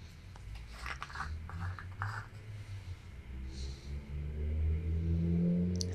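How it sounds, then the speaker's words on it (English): Faint road traffic passes outside a quiet indoor room: a low engine rumble swells toward the end, with soft small handling noises close by. "Excuse the traffic noises outside."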